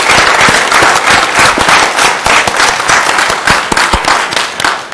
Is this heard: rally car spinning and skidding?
no